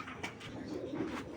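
Two Giribaz high-flyer pigeons cooing softly at close range, low throaty coos repeating over a faint background hiss, with no talk.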